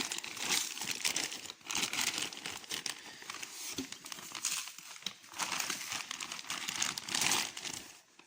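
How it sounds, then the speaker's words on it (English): Close, continuous crinkling of a plastic bag holding a new starter for a Case 1594, rustling in uneven bursts as it is handled, with no voices. "Can't get it out of the plastic bag."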